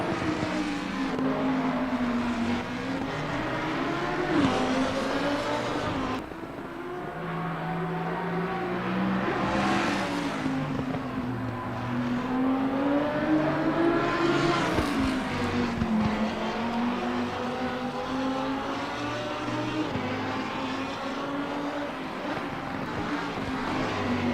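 A Lamborghini Huracan EVO2 GT3 engine in Assetto Corsa Competizione at Valencia, heard from inside the car, roars steadily and loudly, its pitch rising and falling with gear shifts, with a synthetic, game-like quality and no talk.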